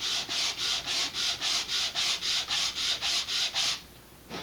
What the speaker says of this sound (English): that looks like a potential failure point, so don't sand that too hard